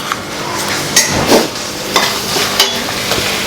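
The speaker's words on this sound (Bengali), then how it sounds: "এখন জাস্ট একটু ভালো করে মাখিয়ে নেবে মশলাটা" A spice paste of ginger, cumin, black pepper, dried and green chili, onion and garlic is worked together, giving close, uneven scraping and light knocking strokes with a soft wet hiss between them.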